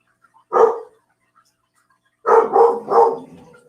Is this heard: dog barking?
yes